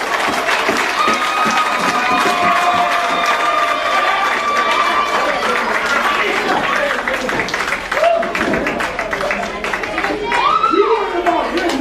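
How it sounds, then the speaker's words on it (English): A wrestling crowd at a PWR professional wrestling show cheers and roars continuously as brawling spills across the floor, loud and sustained, with an announcer talking over the noise. "The crowd on their feet."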